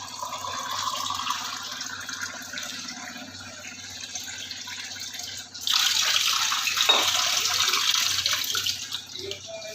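Water runs steadily from a newly installed Aquaguard purifier filling its 12-litre tank, a soft hiss that swells into a louder, fuller gush midway and continues to the end.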